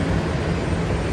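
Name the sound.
airplane at the airport before boarding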